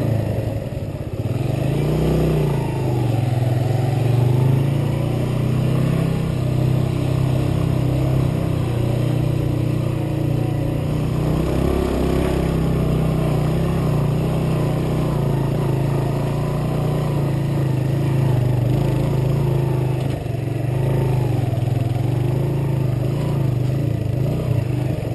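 A motorcycle engine idles and runs steadily nearby in a neighborhood street, a constant low drone with slight revving throughout, no talking.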